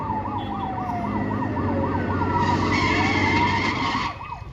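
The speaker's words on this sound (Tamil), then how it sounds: "நம்ம வண்டிக்கு முன்னால போற போலீஸ் ஜீப்ல இருந்து வர சத்தம் தான் சார்" Wailing siren from a police jeep driving just ahead on a road, a loud, fast up-and-down warble repeating steadily over engine and traffic rumble, close and continuous throughout.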